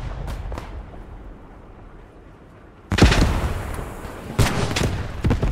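In Squad 44, mortar rounds come down near a French armoured column with a Char B tank by the Maginot Line in 1940: after a quieter stretch of distant thuds, loud booming impacts and crackling fire suddenly take over.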